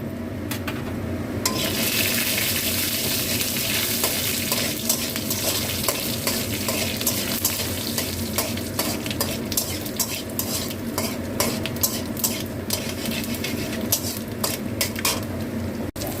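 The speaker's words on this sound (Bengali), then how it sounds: "এইটা আমার মৌরি, কালো জিরে আর এই মেথিটা ফোড়ন দিয়ে দিলাম" Fennel, nigella and fenugreek seeds tempered in hot oil give a steady, close sizzle throughout, with scattered clinks and scrapes from stirring in the pan. No one speaks.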